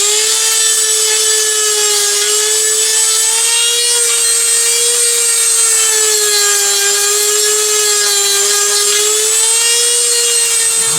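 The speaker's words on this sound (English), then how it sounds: "It's got a little bit more on this one to go just to get the bark off" Steady, continuous scraping of bark off a wooden Y-shaped stick, up close and loud, with a droning tonal whine running through it, no pauses and no voices.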